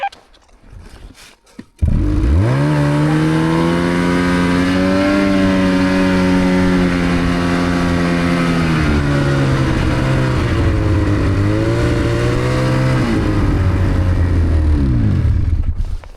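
A turbocharged snowmobile engine roars up after a brief quiet start and holds a loud, close, steady drone while accelerating across a mountain meadow in Island Park, its pitch wavering and dipping slightly through the run.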